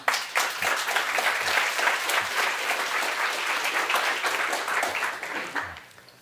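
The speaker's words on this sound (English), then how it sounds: "Give him an applause." An audience at a keynote on ecosystem services breaks into sustained applause, a thick crackle of many hands clapping at steady strength for about six seconds before tapering off.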